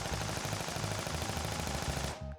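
A chain gun firing in the video game YIIK, a rapid continuous stream of loud close shots that cuts off abruptly at the end.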